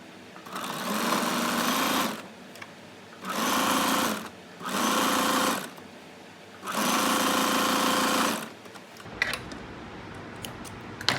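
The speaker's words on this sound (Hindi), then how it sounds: "अब हम इसी तरह से जो हमने आयरन किया है उसी में सिलाई लगाते चलेंगे।" A sewing machine stitches a trouser seam in four loud, close bursts of rapid whirring separated by short pauses, ending with faint handling clicks.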